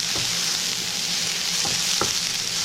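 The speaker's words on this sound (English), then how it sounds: "We will just saute till it gets translucent." Chopped onion and ginger sauté in hot oil with a constant close sizzle, broken by a few spatula scrapes, with no talk.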